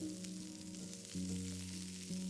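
Asparagus spears sizzling in extra virgin olive oil as they are stirred to coat, a steady close frying hiss with a low steady hum beneath and a slight rise partway through.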